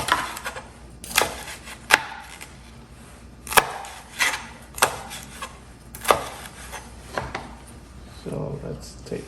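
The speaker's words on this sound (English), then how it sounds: "Getting them nice chopped up size." A knife chops food on a cutting board while cooking a shrimp and rice casserole, giving sharp, irregular knocks spaced a second or so apart, close and fairly loud, with quiet background speech.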